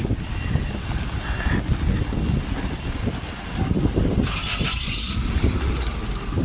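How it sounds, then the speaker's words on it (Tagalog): Strong cold wind blows outdoors in Hong Kong, roaring and buffeting the microphone in rumbling low gusts, with a brief hiss swelling partway through. "Grabe ang hangin. Mahangin, sobrang lamig talaga."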